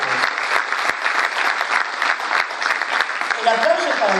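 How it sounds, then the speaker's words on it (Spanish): Steady, dense applause from an audience at a provincial political party meeting, sustained and fairly loud throughout with no break. "El aplauso es para los diputados que tienen el proyecto"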